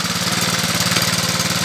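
Engine of a water pump pushing water up a 100 meter vertical lift, running with a steady, rapid, throbbing chug close by, loud and continuous with no pauses and no voices.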